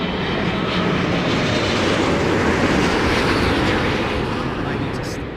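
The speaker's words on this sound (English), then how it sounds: "There it is, there's that throttle power." An airliner lands at Heathrow in windy conditions, a loud, close, continuous roar of engines rising with added throttle power, with a voice talking over it.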